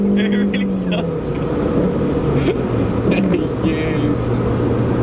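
A MINI Cooper engine revs toward 6,000 RPM, a steady loud drone with a slowly rising then held tone over five seconds, with people talking over it.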